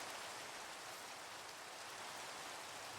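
Steady, even rain in a video game, a dense hiss of falling drops on surfaces with no pauses, fairly faint and without any talk.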